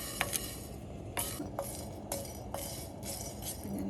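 Whole spices dry-roasting in a pan and being stirred, with repeated scraping and clinking strokes over a faint steady sizzle, fairly close.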